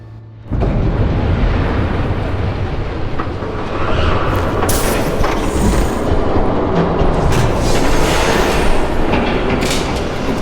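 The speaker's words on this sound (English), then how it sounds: "There's a train coming." A train in a video game thunders past after a brief quiet moment, a loud, sustained rumbling roar with clattering and hissing bursts that continues strongly to the end, with no talking.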